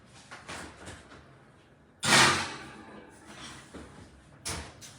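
Oven door shutting after a pan of banana bread brownies goes in, a single loud clunk near the middle after a few soft kitchen rustles, with a smaller knock near the end.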